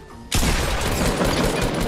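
A double-barrel shotgun blast in Fortnite hits as one loud, close burst that opens into a dense, sustained roar of gunfire and booming, carrying on without a break.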